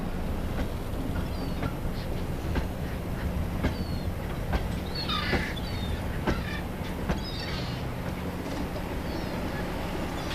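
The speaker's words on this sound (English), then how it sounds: "Now our locomotive gets to work and its first job is to bring a short rake of Bulleid coaches out of the docks complex" Ruston & Hornsby shunting locomotive hauling a short rake of Bulleid coaches out of a docks complex, heard faint and distant as a steady rumble with scattered wheel clicks and light squeals.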